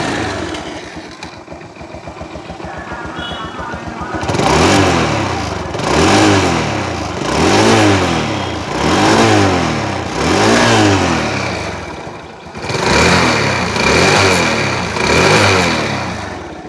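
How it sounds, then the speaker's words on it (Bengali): A car engine idling with a low steady rumble, then revved repeatedly in five or six even surges that rise and fall, close and loud, no talk. "এবার আপনাদেরকে গাড়ির ইঞ্জিনের সাউন্ডটা একটু যদি শোনাই দিই"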